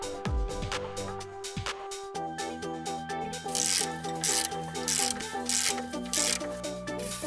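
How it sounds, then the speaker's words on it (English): A VW wheel hub gets scrubbed clean with steady back-and-forth rubbing and rasping strokes, close up and continuous, with a faint mechanical hum underneath. "We clean the wheel hub,"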